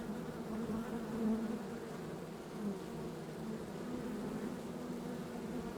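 Bees of the Rio Doce region buzzing, a steady close hum with slight swells in loudness and no voices.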